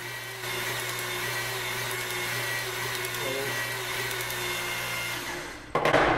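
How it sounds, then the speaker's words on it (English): A hydraulic pump runs with a steady mechanical whine and hum, cycling to engage the drive tool piston on the drive plate. It ends with a sudden louder clunk and rattle near the end. "you need to turn the pump on and cycle it a couple of times to make sure that the piston grabs the drive plate inside of there"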